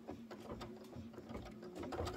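A home embroidery machine stitches a tack-down line for a Halloween haunted-house pillow block, giving a quiet, steady rapid whirring and clicking close by.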